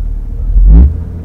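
A car pulls away in a parking lot after braking, giving one short low engine rumble that swells and fades within about a second, close by.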